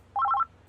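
A telephone rings once for a surprise call at a game awards show, a short trilling electronic burst of rapidly alternating tones lasting under half a second, alone over a faint low hum.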